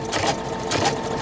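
A sewing machine runs a straight stitch along the bottom zipper of a fur pillow with a close, steady whirring hum over about a second.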